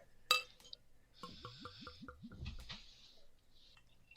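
A sharp glass clink is followed by a quick series of rising glugs as Adnams rye IPA is poured from a bottle into a Ghost Ship glass, fizzing softly afterwards. The sounds are quiet and close.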